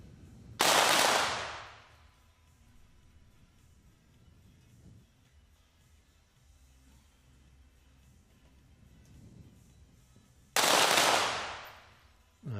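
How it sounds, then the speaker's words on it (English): Women's 25 m pistol competitors fire together at an indoor range, producing two sharp, loud gunshot volleys about ten seconds apart, each decaying quickly, with a quiet hall murmur between them. "And women's 25 meters, they all fire at once."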